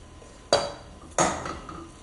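Two sharp clinks of cooked turnip greens being dropped into a metal baking dish for a grits and pancetta souffle, close and distinct, the second followed by a lighter rattle of utensils.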